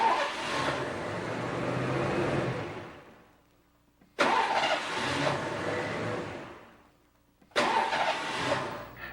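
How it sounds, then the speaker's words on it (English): Car engine bump-cranked repeatedly during a 1986 Ford ignition switch check: three separate bursts of steady starter cranking, the first about four seconds long and the others shorter, each cut off abruptly with brief silence between. "Bump cranking the engine about 10 times should catch any internal ignition switch"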